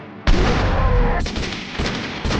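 Booming explosions and gunfire-like blasts from the video game Fallout: New Vegas: a loud burst erupts, followed by a sustained rumbling barrage with further impacts near the middle and end.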